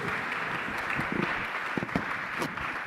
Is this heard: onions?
no